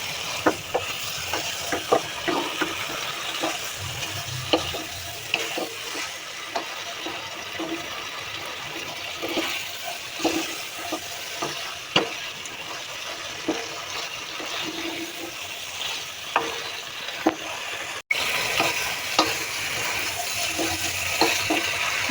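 Curry masala stirred and fried in a pan in a home kitchen, a steady close sizzle broken by repeated scraping clicks of the spoon throughout.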